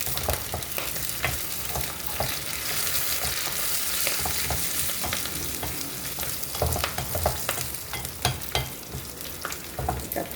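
Curry leaves and onions sizzle in a pan, a dense crackling hiss broken by scraping stirs and sharp spits, close and steady with no voices.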